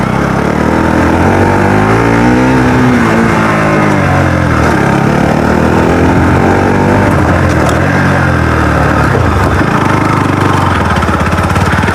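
A motorcycle ridden by an eight-year-old child on a rough trail, its engine droning loudly and steadily throughout with rising and falling revs, close and continuous.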